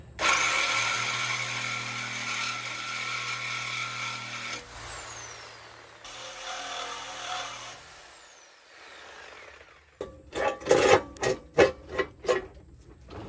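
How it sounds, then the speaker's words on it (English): Sawzall reciprocating saw cutting a truck exhaust pipe: a buzzing, whining mechanical run that shifts in pitch and pauses, followed by a series of sharp clanks and knocks near the end. "let's get to cutting with my super straight Sawzall blade"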